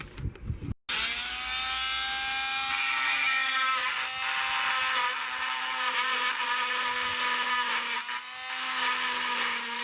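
A power drill with a wood bit whirs at a steady high pitch for several seconds after a brief start-up, loud and close, with slight variations in load.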